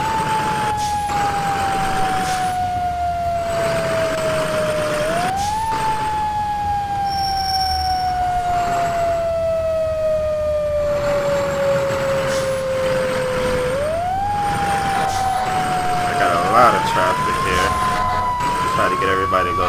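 Fire truck siren on Ladder 66 in the EmergeNYC video game, rising and falling in long sweeping wails, loud and continuous over a steady engine rumble, with a brief higher yelp near the end.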